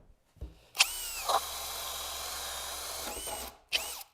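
A power drill whines at high speed boring through wood with a Bosch Expert spade bit, in a sustained run of a couple of seconds bracketed by short starts and stops.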